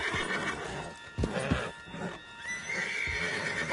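A horse in the video game Red Dead Redemption 2 whinnies, giving a few loud, close neighs and snorts over a steady background of game ambience, with no talking.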